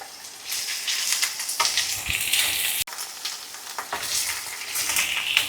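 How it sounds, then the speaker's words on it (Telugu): Pieces of drumstick (munakaya) frying in a pan with spices and ginger-garlic paste make a loud, close, continuous hiss and sizzle, with bursts of stirring and a brief clatter partway through. "మగ్గిన తర్వాత అండి కొంచెం ములక్కాయలు వేసుకొని వేయించుకోవాలి"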